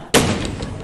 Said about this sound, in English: Stop slamming that door!